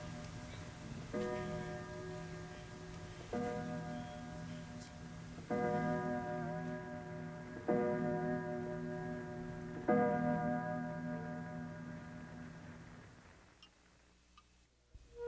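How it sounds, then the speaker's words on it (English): A clock chiming at midnight: a series of resonant bell-like strikes about every two seconds, each ringing and decaying into the next, loud and close with no talk, ending in a fading hum. "The end of the chimes mean the beginning of a new day."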